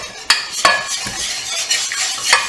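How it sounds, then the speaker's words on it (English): Banana pudding mixture is stirred in a pot, a few sharp clinks of a utensil striking the pot's side between soft scraping, close and alone. "So now we're going to give this a really good stir, mix it in really good."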